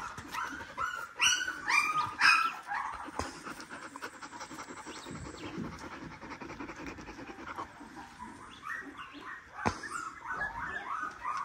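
A dog on an off-grid homestead pants, yips and whimpers close by, with a few short barks scattered through.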